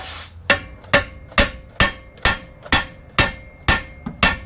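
Ten sharp metallic blows from a body hammer at a steady, even rhythm, close and loud, each ringing briefly before the next strike.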